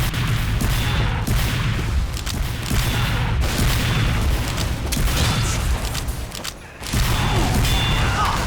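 Gunfire in Team Fortress 2: dense, continuous bursts of shots and booming blasts that run almost nonstop, with one short lull before the firing resumes loudly.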